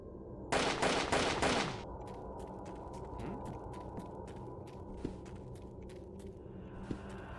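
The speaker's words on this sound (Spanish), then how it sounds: "A los tiros con este." A loud burst of rapid gunfire in the video game 2Dark, lasting about a second, then a quieter stretch with low hum and a few sharp isolated shots.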